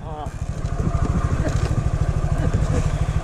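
A Honda Grom motorcycle idling nearby at a wheelie stunt spot, its small engine putting out a rapid, loud, even low putter, with people talking over it.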